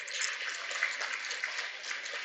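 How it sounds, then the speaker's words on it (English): Audience applause at a devotional talk, a steady wash of clapping heard fairly faint and thin, continuing evenly for a couple of seconds. "A loud applause for her, please"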